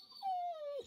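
A pet dog in a room lets out a single drawn-out whimper that falls slightly in pitch and lasts about half a second, close and quiet with no one talking.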